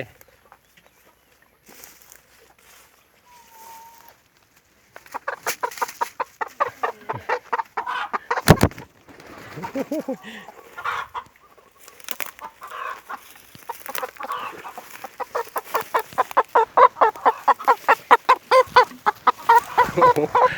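Laying hens cluck in rapid, repeated bursts that grow busier and louder, with quiet stretches at the start and a sharp knock partway through.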